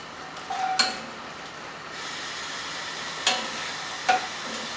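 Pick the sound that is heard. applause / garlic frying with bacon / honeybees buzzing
garlic frying with bacon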